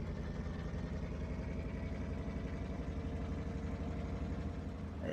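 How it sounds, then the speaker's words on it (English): A ZIL truck engine in a video game runs at a steady, low, droning rumble, faint and unbroken throughout with no voices over it. "That nice motor sounding in there. Definitely sounds a bit like a V8."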